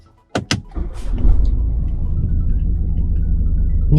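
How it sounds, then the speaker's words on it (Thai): A BMW X4 xDrive20d engine turns over after a couple of sharp clicks from a push-button start, then settles into a low, steady diesel idle that stays quiet and continuous. "คือเสียงของเครื่องยนต์ดีเซลนะครับถือว่าเงียบมาก ๆ เลยครับ"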